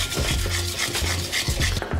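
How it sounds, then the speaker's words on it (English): Dry mix for sweet potato donuts, including pumpkin powder and Raz el Hanout, whisked in a bowl: a quick, steady rhythmic scraping and rasping, close and fairly loud, with no voices. "We're gonna whisk this up."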